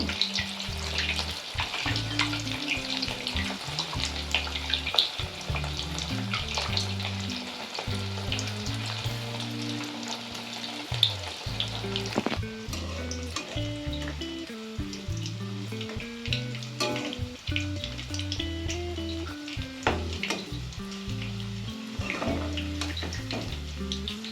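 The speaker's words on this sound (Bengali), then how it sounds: "কড়াইয়ের মধ্যে প্রথমে সাদা তেল দেব এবং এক এক করে আমাদের ব্রকলি দিয়ে দেবো এর মধ্যে" Broccoli pakora frying in white oil in a wok, giving a steady, dense sizzle that crackles continuously at a moderate level, with no talking.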